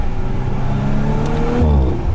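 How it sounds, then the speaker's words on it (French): A 2018 Audi RS5 with a V6 engine revs in a deep, muffled, low drone, rising slightly in pitch as it accelerates, close and steady with no talk. "je dis pas que ça fait pas de bruit, mais c'est un bruit très sourd, très grave et plutôt discret"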